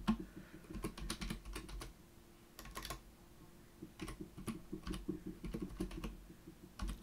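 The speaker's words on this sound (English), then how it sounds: "I'm going to type what it would be on a Mac." Keys tapped on a computer keyboard in irregular bursts of quick clicks, close by and moderately loud, with short pauses between runs and no talking.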